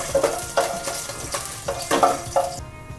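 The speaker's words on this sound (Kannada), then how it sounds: "ಈಗ ತುಪ್ಪ ಚೆನ್ನಾಗಿ ಬಿಸಿಯಾಗಿದೆ, ಇದಕ್ಕೆ ನಾವೀಗ ಗೋಡಂಬಿನ ಹಾಕಿ ಸ್ವಲ್ಪ ತುರ್ಕೋಬೇಕಾಗುತ್ತೆ." Cashews roasting in hot ghee in a pan give a steady sizzle broken by rhythmic scraping bursts of stirring, close by and moderately loud, with no talking.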